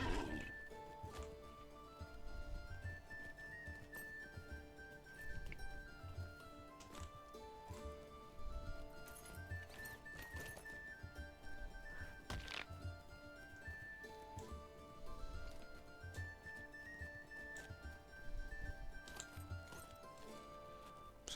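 Faint rhythmic hoof clip-clops of a horse ridden in the online game LOTRO, steady under a soft musical background with no talk.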